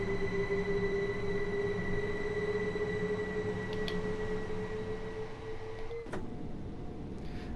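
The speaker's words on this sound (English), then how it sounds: "We can do a nice flyby of this train leaving." A Class 377/4 electric train pulls away and passes on the East Coastway line near Eastbourne, giving a steady rising motor whine and rolling rumble that is close and loud, ending in a sharp clank and a shift in tone; no talking.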